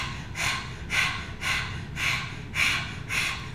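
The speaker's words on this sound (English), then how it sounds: "let's begin now by sticking our tongues out and panting like a dog." Yoga breathing exercise of panting like a dog with the tongue out: about six quick, evenly spaced breath bursts, roughly two per second, close and clear over a faint background hiss.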